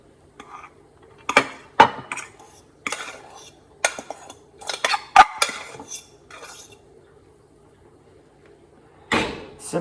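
Cooked rice and eggs being stirred together in a bowl, with irregular clinks and scrapes of a utensil against the dish at close range, in quiet bursts separated by short pauses.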